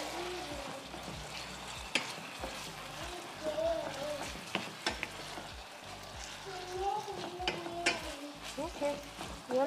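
Amaranth leaves (bondwe) cooking in a pan with a couple pinches of salt, stirred with a steady sizzle and repeated scraping strokes close by, with a voice talking over part of it.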